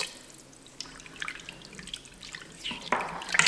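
Red wine poured into a pot of French onion soup already holding bay leaf, thyme and sherry vinegar: a soft, steady liquid trickle that swells into a louder splashing pour toward the end.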